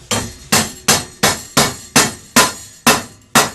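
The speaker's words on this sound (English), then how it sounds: "Take a little bit of the hammer love." Steady hammer blows on a welded metal rose clamped in a vise, about nine sharp ringing strikes in an even rhythm, loud and close with no talk.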